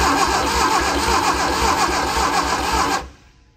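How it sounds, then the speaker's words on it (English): Starter cranking the engine of an old barn-find Sprite car, a loud rhythmic churning that pulses steadily for about three seconds and then cuts off abruptly, no voices present. "Crank it over again."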